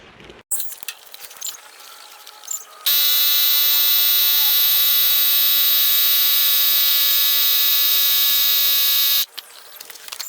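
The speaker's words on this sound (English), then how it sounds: "So then you plug your blower upper into this, and then you're able to use it to blow up your tyres." A small battery-powered air pump inflates tyres with a steady, loud, high-pitched electric whine that runs for about six seconds and then cuts off, with quieter handling noises before and after.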